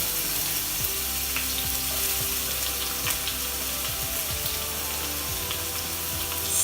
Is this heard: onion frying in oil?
yes